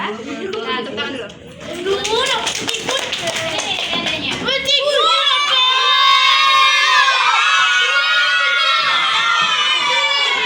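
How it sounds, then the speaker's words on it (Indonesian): A classroom of children claps together after a teacher's lesson, the clapping mixing with shouts and loud excited voices that carry on to the end, with a teacher's voice heard briefly. "Nah, tepuk tangan dulu."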